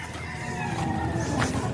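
Broodcock chickens at a poultry breeding yard, a rooster crowing with clucks around it, moderately close and continuous over a low background rumble.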